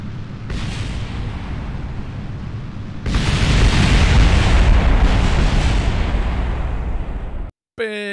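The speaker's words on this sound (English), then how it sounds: "Big explosion." A big explosion in the video game Kerbal Space Program, a loud sustained roaring rumble that jumps in intensity partway through, then cuts off abruptly into brief electronic game sounds.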